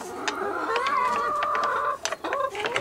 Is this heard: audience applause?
no